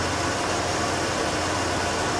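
A junkyard Ford Bullnose truck engine idling rough and low with a leaking brake booster, a steady close, dense rumble that holds evenly throughout.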